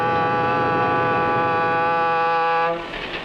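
A 1950s train sounds a long, steady horn blast, loud and close, holding for a few seconds before cutting off, with a low rumble beneath it.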